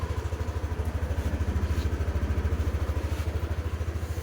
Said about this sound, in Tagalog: Paandarin natin yung motor.